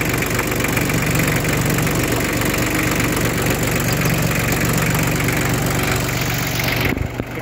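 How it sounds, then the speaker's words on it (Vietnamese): A Hinomoto E2004 small tractor engine with a worn belt runs at a steady, rattling idle close by, a dense, even mechanical chatter that continues for about seven seconds and then cuts off. "Dây cua loa nó mòn nên nó kêu kít kít đấy."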